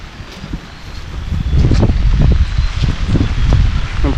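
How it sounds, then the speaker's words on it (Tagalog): Strong gusts sweep through an eggplant and papaya patch beside a river, a loud blustery roar with rustling leaves that builds after the first second and holds, buffeting close to the microphone. "Parang medyo malakas yung hangin dito ah."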